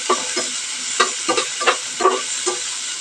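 Onion and tomato frying in oil, heard as a soft background sizzle broken by repeated short scraping bursts of stirring at an irregular rhythm, close by.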